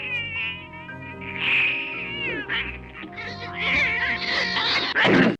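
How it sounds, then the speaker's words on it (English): Several cats meow and yowl from inside a sack in a movie scene, loud, overlapping wails that rise and bend, over a low background hum. "There's a scene where a shopkeeper puts a bunch of cats in a sack."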